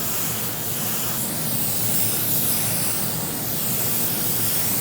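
A cheap spray gun sprays car paint, powered by a small home compressor, giving a steady, close, broadband hiss that runs unbroken throughout.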